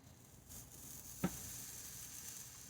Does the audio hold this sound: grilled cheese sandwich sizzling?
yes